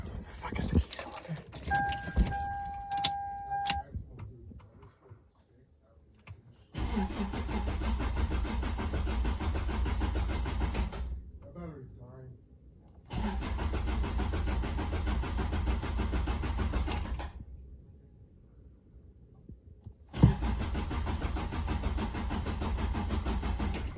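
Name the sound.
Toyota Celica engine cranking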